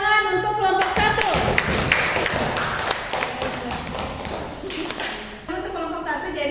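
Classroom applause for a student group during an accounting lesson, quick rhythmic clapping from a room of students, with a voice speaking briefly before and after the clapping.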